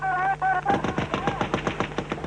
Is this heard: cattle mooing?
no